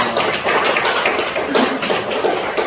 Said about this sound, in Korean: 오늘 우리 찬양 받으신 하나님께 박수를 여가 올리겠습니다.